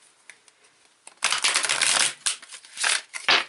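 A deck of silver-edged playing cards is shuffled near and loud, a dense riffling burst followed by shorter repeated shuffles, with quiet handling sounds just before.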